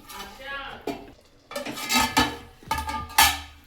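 A spoon scrapes and clinks against a metal pot while stirring puri curry with coriander powder, giving irregular bursts of clanking and scraping separated by brief pauses.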